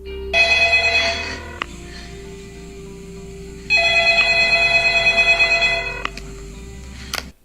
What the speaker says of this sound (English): So I wanted to show you the cell phone ringing montage with the cell phones.